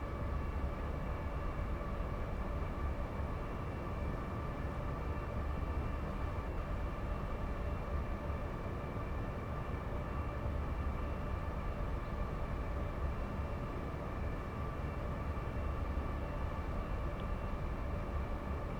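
A Class 387 passenger train runs in Train Sim World 5 on the West Coast Main Line South between Watford Junction and Wembley: a steady, continuous rumble of wheels and traction with constant motor whine, loud and unbroken throughout, no voices.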